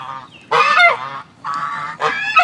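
Close, loud honks from a White Chinese goose, a not very large male, a few nasal calls in short bursts with brief pauses between them.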